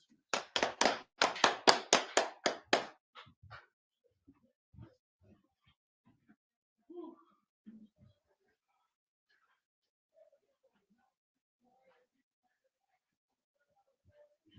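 A congregation at a Sabbath service claps in a fast, loud burst of about a dozen claps over the first few seconds, then a few scattered taps and brief murmurs follow in a quiet room.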